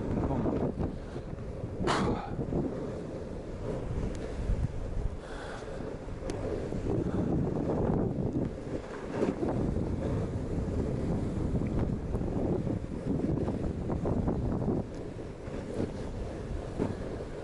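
Wind buffeting the microphone while snowkiting in hazy conditions at Obertauern, a continuous rough rumbling roar with gusty surges and a few sharp bumps, close and loud throughout with no talk.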